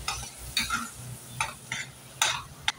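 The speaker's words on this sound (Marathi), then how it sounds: "आणि हे चांगलं परतवून घेऊया।" Spice paste sautéing in a pan for amti, a Marathi lentil curry, with soft stirring scrapes and brief bursts of sizzle recurring at irregular intervals, close by and fairly quiet.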